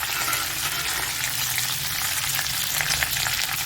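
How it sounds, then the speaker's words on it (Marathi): Cumin, curry leaves, green chili and ginger frying in a pan for sago khichdi, a loud, dense, continuous close-up sizzle with bright crackle and faint stirring scrapes, with no speech. "आता ही आपण कढीपत्ता आणि हिरवी मिरची आणि आलं असं सर्व यात मी टाकून दिलेलं आहे"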